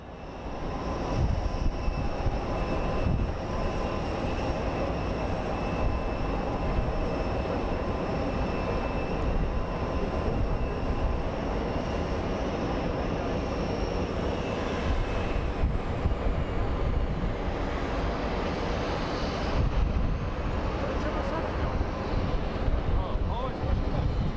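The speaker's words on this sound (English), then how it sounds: "Triple seven is pushing back" A Boeing 777 airliner pushes back at Sky Harbor airport in Phoenix, giving a loud, steady broadband roar of engines and ground equipment that holds for the whole stretch, with faint voices mixed in.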